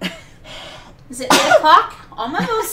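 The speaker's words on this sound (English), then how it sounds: "When we start the stream, I have to sneeze" A person sneezes sharply once at close range, with a quick gasping lead-in, while brief casual talk comes before it.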